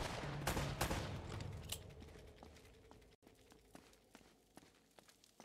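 Gunfire in Uncharted: Drake's Fortune on PS5, with several sharp shots cracking out in an irregular burst at the start, then sparser, fainter reports and scuffling footsteps spread across the rest of the moment.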